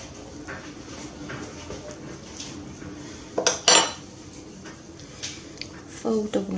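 Ground oats being mixed into melt-and-pour soap in a bowl, with soft scraping and clinking of a utensil against the bowl, a few louder knocks near the middle and at the end, over faint room background.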